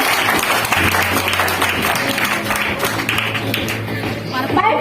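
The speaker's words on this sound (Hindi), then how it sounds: "जोरदार तालियां, जोरदार तालियां।" A crowd at a business seminar in India claps steadily and loudly throughout, a dense continuous round of applause with a low hum beneath it.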